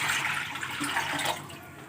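Water pours into a kadai sitting on a stove for boiling rice, a brief splashing, gushing rush that fades out toward the end.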